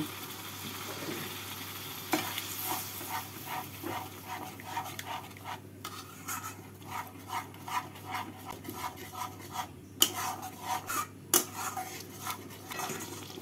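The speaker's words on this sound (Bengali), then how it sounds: "জল দিয়ে ভালো করে মিশিয়ে নেব।" Spoon stirring whipped sour yogurt with a little water in a bowl while making doi katla fish curry, a steady rhythmic scraping and rubbing that runs throughout, close and alone with no talk.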